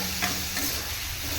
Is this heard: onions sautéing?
yes